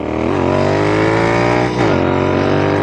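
A Royal Enfield INT/GT hybrid custom motorcycle, the Clymer built by Baxter Custom Works, runs loud and close with a steady, throaty drone and two quick rises in revs.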